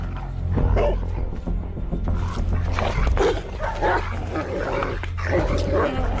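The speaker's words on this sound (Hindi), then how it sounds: "बहुत गंदा कुत्ता है।" A dog barks and yips repeatedly at close range, loud sharp barks mixed with whimpering, over a low rumbling background.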